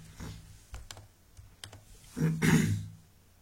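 Typing on a computer keyboard while working in an Excel sheet: a handful of close, light key taps spaced irregularly, then a short, louder burst of keystrokes near the end, with a quiet room around it.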